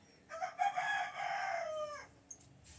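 A rooster crows once, close and loud, on a rooftop where a small flock of chickens is kept, the single drawn-out call lasting under two seconds before a brief quiet.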